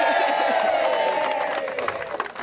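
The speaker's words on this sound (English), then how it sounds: "Give them a cheer again, everybody." An outdoor crowd cheers and claps for three dads finishing a charity walk around Anglesey, a loud continuous roar of whoops and applause that fades slightly toward the end.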